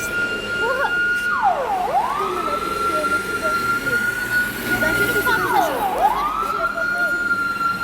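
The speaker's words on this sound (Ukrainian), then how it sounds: "Ще одна пожарка їде." A fire engine siren wails past twice, its tone swooping down as it goes by, loud over steady street noise during a fire at a military base.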